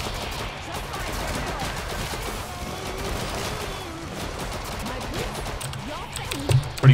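Rapid gunfire from a shooter video game, fairly steady bursts running throughout at moderate loudness, mixed with game sounds and a louder thump near the end.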